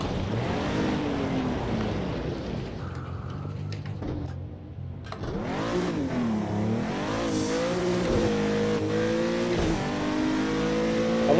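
A 2017 Acura NSX engine in Project Cars 2 revs and accelerates loudly and continuously, its pitch sweeping up and down through gear changes, with a brief lull near the middle before climbing again.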